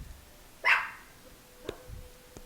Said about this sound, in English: have a small dog going crazy.